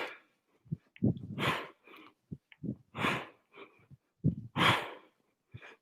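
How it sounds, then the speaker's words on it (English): Heavy, rhythmic breathing between kettlebell sets in a strength and swing workout, with sharp exhales and snorting gasps in close bursts, alone with no talk. "Slowing your breath down."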